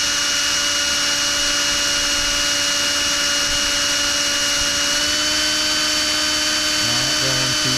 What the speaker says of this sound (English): You don't want to drill and snap the bit off inside there.